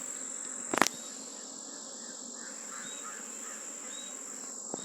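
Honey bees hum in a steady, continuous drone around a strong hive in Jamaica, with a brief knock of handling near the start and faint insect chirps layered over the constant buzz.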